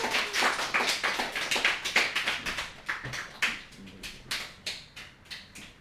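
A church congregation at a Sunday service claps in a loose, uneven rhythm, distinct hand claps ringing out at a moderate level and gradually thinning toward the end.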